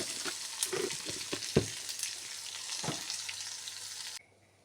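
Homemade patrode masala spices frying in a pan, a soft steady sizzle with light stirring scrapes and a few sharper pops, moderately quiet, stopping abruptly near the end.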